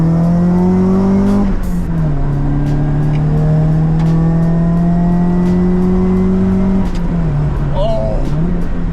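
Nissan 180SX with an SR engine revving, a loud, close idle drone that climbs and settles with a couple of throttle blips, while a person talks briefly near the end.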